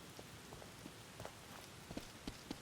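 Faint rain in the horror game The Evil Within, a soft steady patter with scattered individual drops ticking on a surface, quiet and without talk.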